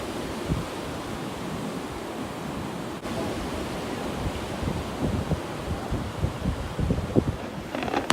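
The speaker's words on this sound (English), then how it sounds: "You just listen to the waves." Ocean waves wash onto a beach at night, a steady broadband surf roar with soft rising swells and no voices, heard continuously and fairly close.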